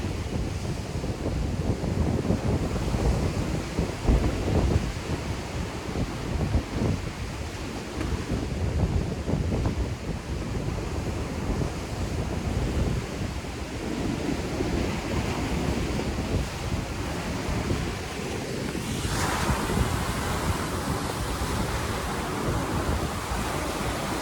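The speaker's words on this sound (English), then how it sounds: "Listen to the waves." Ocean waves roll and wash continuously at Hialeah Beach, a broad steady surf roar mixed with gusty wind buffeting the microphone.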